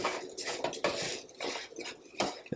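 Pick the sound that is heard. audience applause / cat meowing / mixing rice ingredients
mixing rice ingredients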